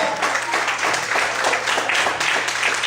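A church congregation applauding during a Portuguese-language sermon, steady clapping from many people filling the room with a fairly loud, continuous patter.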